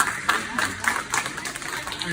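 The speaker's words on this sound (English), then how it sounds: "So Roy, let's give him a round of applause." An audience at a neighborhood watch meeting gives a short round of applause for a block captain, a brief burst of scattered clapping with voices mixed in.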